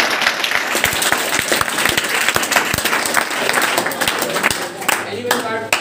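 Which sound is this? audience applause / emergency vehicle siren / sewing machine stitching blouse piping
audience applause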